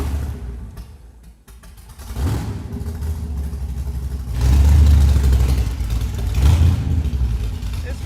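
A 1985 C4 Corvette engine powering a homemade kart around the block, rumbling loud and close as it pulls away and accelerates in surges, with a brief dip before the revs climb.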